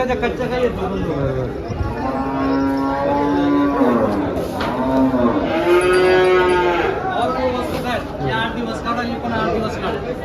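Several HF and Jersey cross cows moo in long, drawn-out calls at a cattle market in Dhule, over steady crowd chatter and nearby voices, with a busy, noisy outdoor backdrop.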